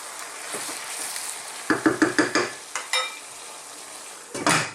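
Fresh tomatoes being stirred into garlic chicken in a pan: a soft sizzle underneath a run of quick utensil scrapes and knocks against the pan, clustered in the middle and again near the end, close by.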